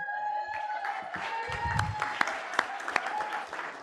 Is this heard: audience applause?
yes